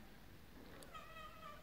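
A single cat gives one short, fairly close meow in a quiet room, with no voices around it.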